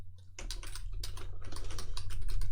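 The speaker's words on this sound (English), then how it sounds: "So I type that here." Quick, steady keystrokes on a computer keyboard, close and distinct over a faint low hum, with no speech.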